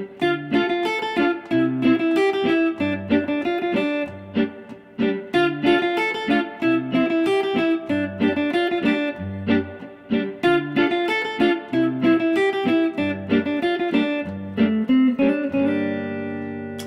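An electric guitar plays the catchy riff and chords of a song, with clear plucked notes and strummed chords in a steady repeating rhythm, played alone with no voice.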